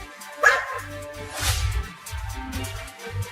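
A cartoon dog barking in a Hindi comedy animation: a sharp yip, then several loud, close barks that come in short rhythmic bursts, with a low growling undertone.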